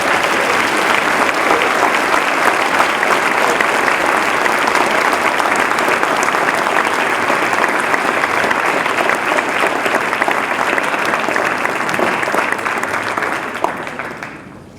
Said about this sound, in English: Let's give a round of applause to our juniors.